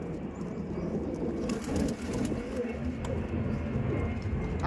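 A loft of tournament pigeons in Madhyamgram gives off a dense, murmuring wash of low coos, blended with broad background rumble that runs steadily throughout.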